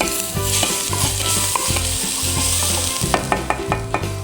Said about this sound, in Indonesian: ini pertama aku masukin minyak wijen dan juga bawang putih cincang